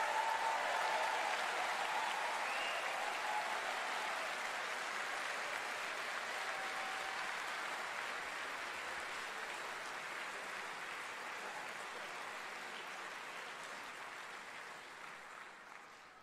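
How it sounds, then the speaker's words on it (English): A concert audience at a TubaChristmas performance on the Millennium Stage applauds the antiphonal tuba players in the tiers, producing a broad, continuous wash of clapping that slowly fades over about sixteen seconds. "we need to now give a round of applause to our antiphonal tubas that are"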